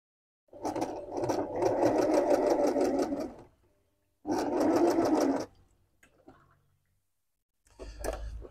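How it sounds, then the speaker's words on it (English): A domestic sewing machine stitches a wash and care label onto a black garment, running in two close, loud bursts of about three and one seconds, followed by brief quiet clicks of adjustment. "I'm just changing the stitch length for the last stitch there to make sure that it is within the boundaries of the label."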